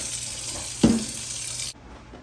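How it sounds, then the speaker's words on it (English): Water runs from a kitchen sink tap onto elderberries in a steady close rush, with a brief thump partway through, then cuts off abruptly near the end. "go to the sink, some water, and just add just enough water until the elderberries are covered"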